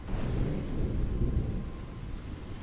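Rain and thunder in darkness, a steady hiss of rainfall under a low, continuous rumble of thunder, fairly quiet and with no voices.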